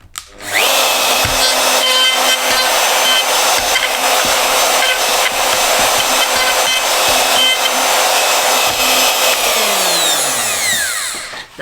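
A power tool makes a final pass cutting a flat-bottomed square hole in wood, starting with a sharp whir and holding a loud steady whine, then spinning down in a falling tone at the end.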